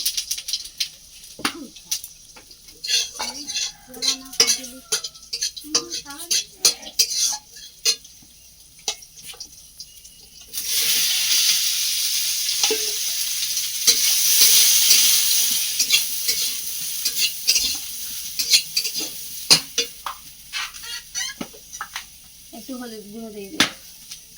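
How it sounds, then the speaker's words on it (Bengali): Bitter gourd frying in hot oil with five-spice seeds in a wok gives a loud, steady hiss that swells midway, with stirring clatter and speech before and after. "এবার উচ্ছেটা বসিয়ে দেব কড়াই তেল দিয়ে দিয়েছি"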